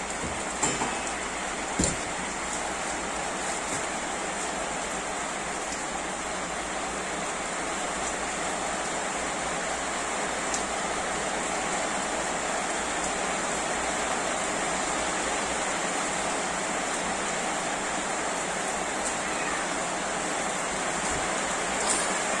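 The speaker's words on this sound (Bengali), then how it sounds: "বাইরে কিন্তু প্রচন্ড বৃষ্টি হচ্ছে।" Heavy rain falls outside in a steady, dense wash of hiss that stays even and unbroken throughout, with no talking.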